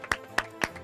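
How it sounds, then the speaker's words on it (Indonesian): A few sharp hand claps from a film crew, spaced evenly and close by, at an indie award event. "Tepuk tangan dong kru."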